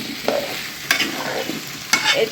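Taro stems and fish sautéed in a pan with chopped onion, green chilli and spices, a soft sizzle under a few sharp scrapes of a spatula stirring the pan, close and without speech.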